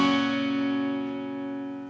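A six-string guitar chord strummed once across all strings, ringing out clearly and decaying slowly with no voice over it, played in a song lesson.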